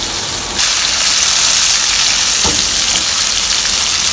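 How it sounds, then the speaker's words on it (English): Bombay duck fish fries in hot oil in a pan that gets shaken, a loud, close, continuous sizzle that jumps up sharply after a brief opening and stays fierce, with a faint clunk midway. "I'm too nervous to you know, turn this using a spatula, so I'm just sort of shaking the pan around"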